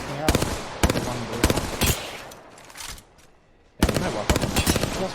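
Gunfire in the Apex Legends video game comes as bursts of loud, close shots in quick rhythmic runs, with a short lull in the middle before another sharp burst resumes.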